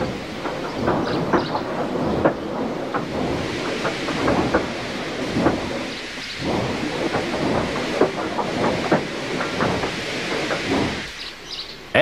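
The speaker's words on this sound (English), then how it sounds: "they uncoupled Gordon, who had enough puff to slink onto the siding out of the way." A steam engine creeps slowly onto a siding, with a rumbling clank of wheels and irregular heavy chuffs and thumps at close range.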